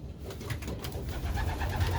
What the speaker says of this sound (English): just letting you look at the birds. They're doing well. They're fed.